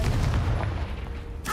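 A Confringo fire spell blast in Hogwarts Legacy, a short deep boom close by that decays into a low rumble, with a faint sharper crackle at the very end.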